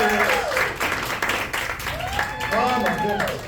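An audience at a magic show applauds, a dense, sustained wash of clapping that runs the whole stretch, with voices and exclamations rising over it.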